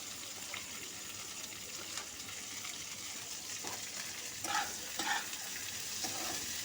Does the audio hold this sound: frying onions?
yes